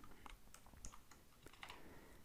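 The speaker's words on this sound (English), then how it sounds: "So hit C on the keyboard." Computer keyboard keys tapped during Cinema 4D modelling work: a quick series of light, crisp clicks scattered across the moment, close and fairly quiet, with no voices.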